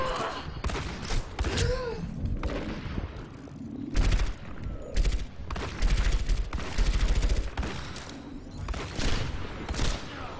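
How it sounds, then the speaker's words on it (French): Rapid bursts of gunfire in the Overwatch shooter game, firing at random in clustered volleys with sharp cracks and thuds, mixed with a player's talking and breathing throughout. "le mec il tire au pif"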